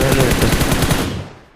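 Rapid automatic sniper gunfire in a shooting video game, a loud dense burst of shots in quick rhythm that fades out over the last half second.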